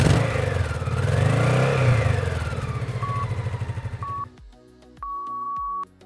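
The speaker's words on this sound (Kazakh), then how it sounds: "Мотоциклдің гүрілі." A motorcycle engine roars and revs loudly and continuously for about four seconds, its pitch swelling and easing, then cuts off into a few short electronic beeps and a sustained tone.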